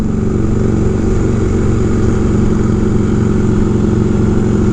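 Motorcycle being ridden, a loud, close, steady engine rumble with a throbbing low-end drone throughout, no talking.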